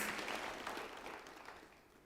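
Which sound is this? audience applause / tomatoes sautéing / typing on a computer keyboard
audience applause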